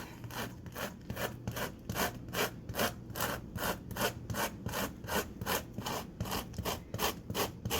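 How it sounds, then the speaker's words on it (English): Fruit peel zested on the rough side of a grater into a bowl for Tarta de Santiago, a rapid, regular series of close rasping strokes, about two per second, continuing steadily throughout. "take the rough side of your planer and scrape ever so gently into a bowl"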